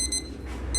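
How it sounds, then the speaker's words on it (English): A timer alarm goes off in short, high electronic beeping pulses over a steady background hum, faint but distinct. "that's a timer"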